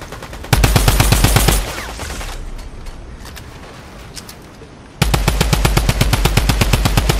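Rapid automatic gunfire in a ranked competitive shooter game, loud sustained bursts of rattling shots with a brief quieter gap of scattered noise before another long burst resumes.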